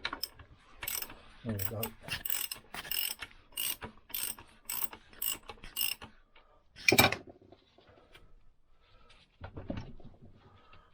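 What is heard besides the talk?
turning the crank of a 1964 Lambretta Li125 engine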